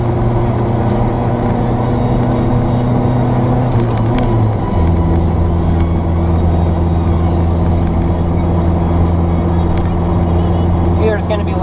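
Small truck engine labouring up a hill, a loud steady low drone with harmonic tones that drop in pitch midway as it shifts from fourth down to third, continuing heavy and close throughout.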